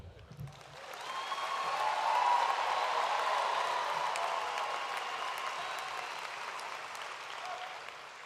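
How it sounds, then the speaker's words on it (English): A commencement crowd at the University of Evansville gives its 2022 graduates a second round of applause, swelling quickly into sustained clapping and cheering that peaks early and then tapers slowly. "Please join me in the first of many rounds of applause for our 2022 graduates."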